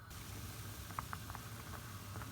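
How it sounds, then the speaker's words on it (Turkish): A pot of water with edible wild greens bubbles steadily at a rolling boil, with soft pops and gurgles over a constant low hiss, close by and moderately quiet. "gördüğünüz gibi su harika kaynıyor içindekilerle"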